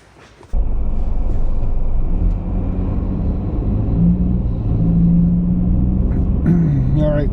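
A 2025 Ford Bronco Sport cruises on a highway in freezing winter weather near Portsmouth, New Hampshire, its steady engine and road rumble starting abruptly and holding loud and constant throughout.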